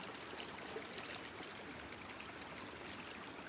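A small river with oddly brick-lined banks rushes steadily on a hike, a continuous, even wash of flowing water with no voices over it.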